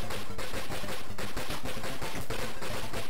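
Rapid, steady gunfire from the 1985 Whiteboard/Kyugo arcade game Flashgal as the player shoots enemies: loud, evenly spaced bursts repeating without pause over a dense game soundtrack.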